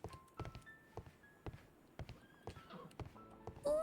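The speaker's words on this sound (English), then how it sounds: "Oh, they have horses." Horses in a video game manor setting (Sherlock Holmes: Crimes & Punishments), faint neighs and whinnies over scattered hoof clops and thunks, quiet and sparse, ending in a brief louder whinny.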